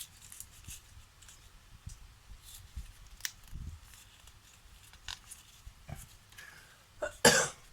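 Someone with a lingering cold coughs while making paper rosette embellishments: scattered faint coughs and throat sounds over quiet background noise, ending in one sharper, louder cough near the end.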